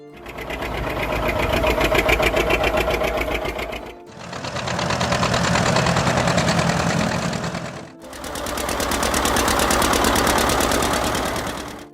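A John Deere 720 two-cylinder heavy-duty tractor from 1956 runs with a loud, rapid, even chugging beat, heard close in three repeated stretches of about four seconds each.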